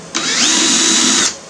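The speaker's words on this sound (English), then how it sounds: "Now I've got to drill out. There's a small hole. I got to make it big enough for my 3/8 bolt." A power drill whines steadily for about a second as it enlarges a small hole in a water pipe spacer to fit a 3/8 bolt, loud and close with sharp start and stop.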